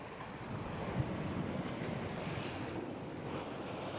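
Sea waves washing against the eroding shore at Kalmunai, a continuous close roar of surf mixed with gusting wind buffeting the microphone, with one brief louder surge and no talking.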